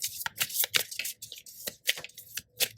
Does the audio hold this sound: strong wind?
no